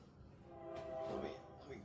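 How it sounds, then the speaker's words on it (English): A passing train sounds its horn in the distance, a faint sustained tonal blast swelling briefly over a low rumble, quiet and outdoors. "Really wants you to know there's a train there."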